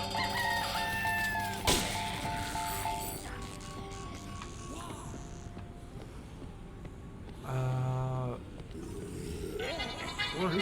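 Turkeys gobble and cluck in a Dead Rising 2 video game scene, several bursts of fowl calls mixed with game noise and clanking mechanisms, with a person talking over parts of it.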